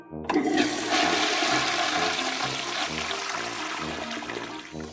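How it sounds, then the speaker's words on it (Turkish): A toilet flushes with a sudden rush of water that surges loudly and keeps gushing steadily, close by. "Kapağını kapatalım. Sifona basalım."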